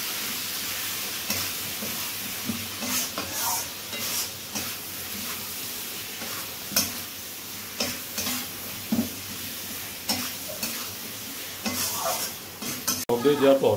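Soybean curry with sour curd fries in a pan as a spoon stirs and scrapes in repeated strokes over a soft, steady sizzle, close up and with no talking.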